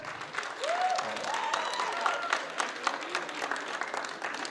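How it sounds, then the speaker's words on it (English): A crowd of parents, teachers and students at a junior school graduation party in Al Ain claps loudly and continuously, with sharp whistles rising above the applause. "can I have a huge round of applause for our parents, teachers, all those who are here today"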